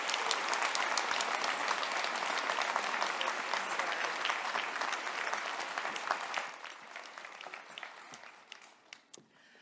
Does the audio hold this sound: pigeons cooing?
no